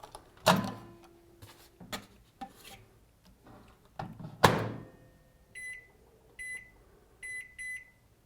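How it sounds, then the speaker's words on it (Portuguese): A microwave oven in a kitchen, with sharp clacks and a rubbing scrape as its door is handled, followed by several short high electronic beeps from the control panel, heard close and alone. "Abre a porta do micro-ondas."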